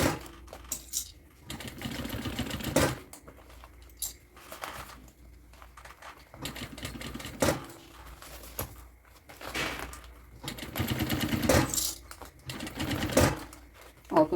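A sewing machine stitches the lining of a fanny pack in short close bursts of rapid clattering, separated by brief pauses and soft handling of fabric.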